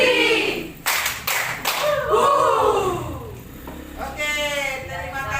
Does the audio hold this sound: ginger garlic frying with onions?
no